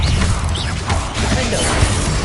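Confringo and Bombarda spell blasts in the Hogwarts Legacy video game roar as a dense, loud, continuous wash of explosive crashing and rumbling, with no clear gaps between them.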